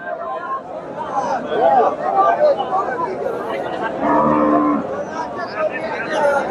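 A cow moos loudly at a busy cattle market in Chandaikona, with a long drawn-out call standing out over steady crowd chatter and people talking nearby.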